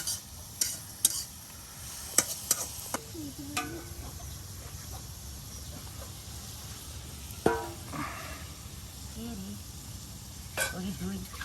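Bitter gourd being stirred and fried as karela bhaji in a home kitchen, with scattered scraping stir strokes over a low, steady sizzle, while people talk in the background.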